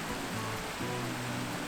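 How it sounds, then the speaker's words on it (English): Steady broadband rushing of cascading water at Bridal Falls, a continuous, fairly soft hiss with faint low tonal hum in the background and no voices. "Oh, I am so in love with cascading water."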